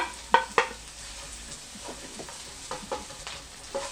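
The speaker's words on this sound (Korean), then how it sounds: "대파, 마늘, 생강, 홍고추까지 볶아주시면 됩니다" Green onion, garlic, ginger and red chili are stir-fried in a wok for kkanpunggi, with a soft sizzle and several sharp clinks and scrapes of a utensil stirring, quiet and close.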